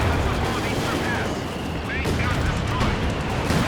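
A 17-pounder anti-tank gun firing in the video game Company of Heroes 2, a loud, dense battle scene of booming and crackling gunfire over a constant rumbling background.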